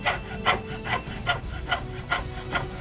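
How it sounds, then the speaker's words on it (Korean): A small saw rasps back and forth through a silver ring in a steady rhythm, about seven short strokes, close and fairly quiet. "동그란 가락지를 갑자기 톱으로 자르기 시작하는 장인"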